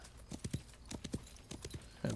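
Horse hooves clip-clopping in the video game New Frontier, a steady irregular run of sharp knocks at moderate distance, with a brief louder rustle at the end and no talking.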